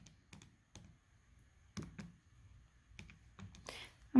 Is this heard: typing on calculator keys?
yes